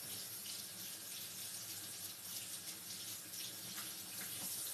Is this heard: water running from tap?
yes